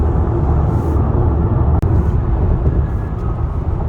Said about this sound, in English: I hear a lot of the tire noise, but it's not drastic